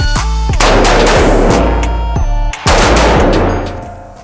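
Rapid AR-15 rifle fire on an outdoor shooting range, loud close shots in quick succession, a brief pause, then another fast string, with ringing echo between reports.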